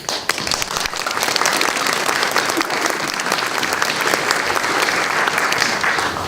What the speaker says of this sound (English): another round of applause for the staff for this phenomenal vision and creation that they made